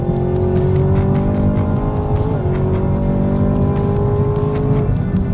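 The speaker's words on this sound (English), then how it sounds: "Got the grip, got the brakes." A sports car brakes hard after running above 140 on a track, engine roaring loudly and steadily as the tires squeal faintly, with wind buffeting throughout.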